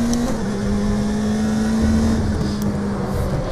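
BMW touring car engine in the RaceRoom racing game, WTCC class at Laguna Seca, holding a loud steady high drone with a brief pitch dip, continuous throughout.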